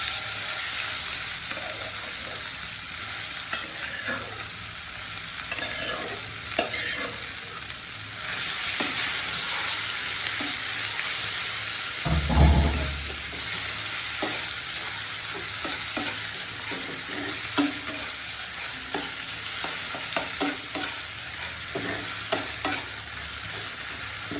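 Cauliflower and tomato bhorta with black cumin stir-fried in a pan, a steady sizzle with repeated scraping strokes of a spatula and one louder clatter partway through, close and continuous with no talking.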